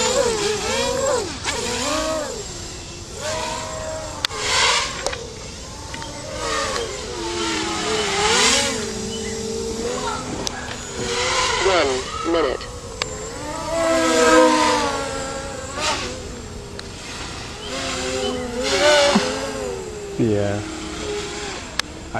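Motors of a Switch Blade 250 mini tricopter whining and buzzing in flight, pitch rising and falling with throttle changes, close up under frequent talking.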